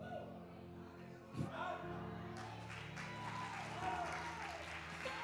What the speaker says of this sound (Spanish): Aplaude a Dios ahora.